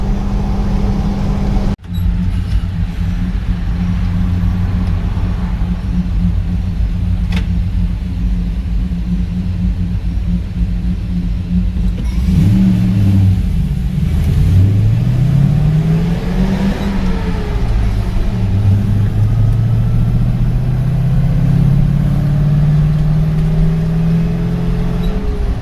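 An LS-swapped Squarebody truck on the road: a steady engine drone and rumble from inside the cab, then a rising, surging roar as it accelerates hard partway through.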